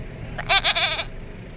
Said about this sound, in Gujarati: બકરી બોલાવું